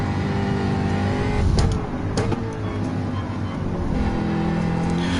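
Group 3 race cars in Gran Turismo 7 shooting past, a steady dense engine roar with brief swells as cars go by, close and continuous throughout.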